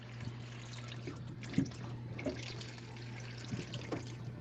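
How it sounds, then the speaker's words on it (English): Water runs from a tap as Kool-Aid is mixed, a quiet steady trickle with small splashes and drips under a low electrical hum, faint and close by. "hearing water running"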